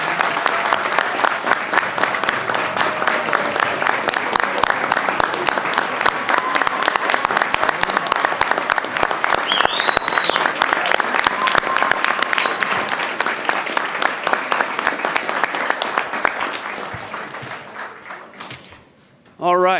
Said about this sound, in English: join me one time for all of them together for a round of applause for this fantastic MSF class of 2014